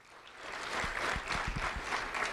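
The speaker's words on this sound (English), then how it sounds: "A round of applause for Leonardo Monzon" An audience applauds an award recipient at a school recognition ceremony, a steady wash of clapping of moderate loudness with a few louder individual claps standing out near the front.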